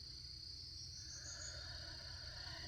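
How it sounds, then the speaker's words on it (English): Cicadas and other insects in nature make a faint, continuous shrill buzz and a steady high drone that holds unchanged throughout, with no talk. "Frogs and birds and cicadas."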